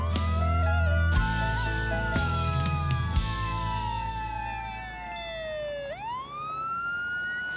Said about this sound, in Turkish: korkma ambulans sireni sesi bu